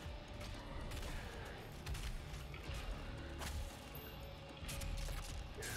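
Enemy gunfire in DOOM Eternal, a dense, fairly faint stretch of mechanical clatter with scattered sharp shots and impacts over a continuous game din, with no talk.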